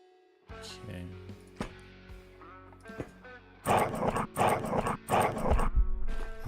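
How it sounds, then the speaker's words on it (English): A dog in the game Quasimorph gives a run of loud snarling growls and barks in three or four rhythmic bursts, preceded by thuds and scattered clicks. "It is a dog."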